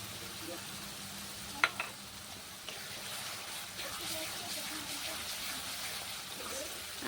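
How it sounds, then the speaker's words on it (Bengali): A paste of ginger, garlic, onion and green chili fries in a pan with a soft, steady sizzle, broken by a few sharp stirring clinks, while a voice talks quietly over it. "আদা রসুন পেঁয়াজ একসাথে একটু ভালো করে ভেজে নিতে হবে।"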